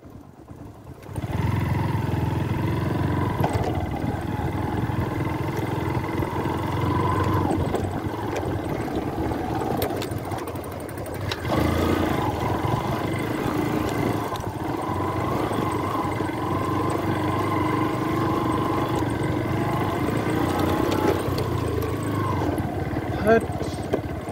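A motorcycle engine runs steadily on an off-road trail in the Devchuli hills, a mid-pitched drone that rises and falls with throttle over about twenty seconds, with voices talking over it.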